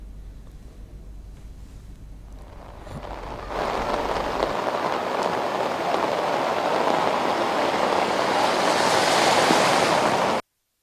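Heavy rain pours down in Hyderabad, a steady dense hiss that swells louder partway through and keeps roaring without pause.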